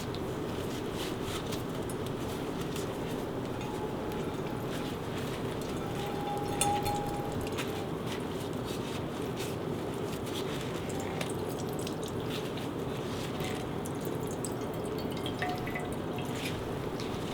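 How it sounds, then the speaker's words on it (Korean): Water drips and trickles steadily as soaked pickled cucumbers are wrung out in cheesecloth, a continuous wet squeezing sound at moderate level with no talk. "면포 넣고 물기를 쫙 짜줍니다."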